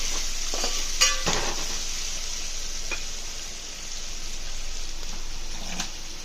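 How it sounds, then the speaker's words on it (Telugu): Coriander powder is stirred into oil-cooked pieces for bagara rice, with a steady close sizzle of frying and the scrape and clink of a spoon against the pan, sharpest near the start and end. "ధనియాల పొడి యాడ్ చేసుకొని ఇలా బాగా కలుపుకోవాలి."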